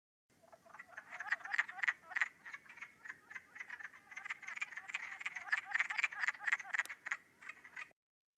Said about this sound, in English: here's what their call sounds like